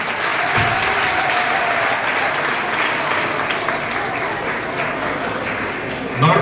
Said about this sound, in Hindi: यस, एक बार तालियां हो जाए।